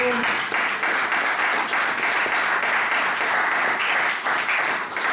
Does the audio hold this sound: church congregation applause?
yes